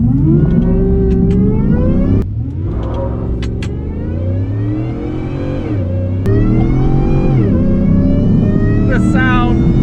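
A supercharged 750 hp Shelby F150 truck accelerates hard in the rain, its loud engine climbing through repeated rising sweeps with sharp gear-change breaks and a supercharger whine, alone and close.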